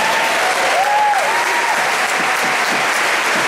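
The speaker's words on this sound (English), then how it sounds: "Let's give a round of applause to Mitchell Lutz and Colby Spanning" Loud, sustained applause fills a school band concert by a symphonic winds ensemble, a dense wash of clapping from a large audience with a faint whistle-like tone drifting through early on.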